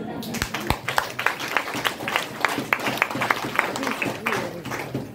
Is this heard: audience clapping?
yes